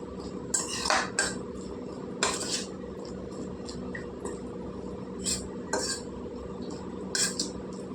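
Sliced onions being mixed with chili powder in a bowl, with irregular clinks and scrapes of a spoon against the bowl in short bursts over a quiet background, no voices.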